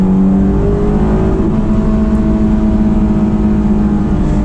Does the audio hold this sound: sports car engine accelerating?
yes